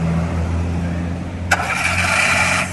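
An engine starting up: a steady low hum, then a sudden loud burst near the middle as a car's starter motor cranks and the engine catches, rising into a bright, continuous mechanical whir.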